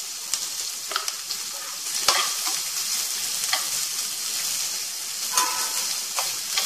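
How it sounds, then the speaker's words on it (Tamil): Onions sautéing in a pan for tomato kodo millet rice, a dense steady sizzle with intermittent spoon scrapes and taps, close up with no voices. "வெங்காயம் நல்லா சுருள வதங்கட்டும்"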